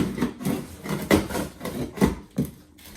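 A knife slices open a cardboard cargo package, giving a series of close, scraping and tearing bursts of cutting in an uneven rhythm, with no one talking.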